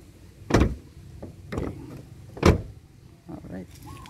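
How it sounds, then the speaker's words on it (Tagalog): Doors of a 2009 Mitsubishi Lancer Cedia GLS 1.6 CVT sedan thud shut three times at roughly one-second intervals, solid and close, followed by a softer rattling clunk. "Tingnan natin ang pagbagsak ng pinto."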